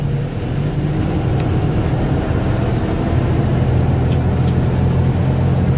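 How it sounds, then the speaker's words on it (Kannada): A truck engine with a damaged silencer rumbles steadily and loudly close by, a deep continuous drone that swells slightly louder partway through, with no voices. "ನಮ್ಮ ಸೈಲೆನ್ಸರ್ ಇದು ಬೇರೆ ಹೋಗ್ಬಿಟ್ಟು ಒಳ್ಳೆ ಬರ ಬರ ಬರ ಬರ ಬರ ಅಂತ ಸೌಂಡು"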